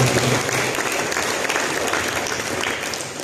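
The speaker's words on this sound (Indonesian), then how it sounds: "Mari kita berikan tepuk tangan kepada Allah." A church congregation claps during a sermon, producing steady dense applause that fills the whole short stretch at an even, moderately loud level without fading.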